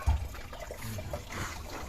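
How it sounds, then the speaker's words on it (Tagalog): Coolant water drains out of the bottom of a Suzuki Every radiator as a faint, close trickle and light splashing that runs steadily throughout. "lumabas na, bumilis na yung agos ng tubig dun sa ilalim"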